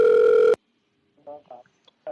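A telephone line connects for a radio call-in: a loud, steady phone tone cuts off abruptly, followed by silence and then a few short bursts of voices coming through the line.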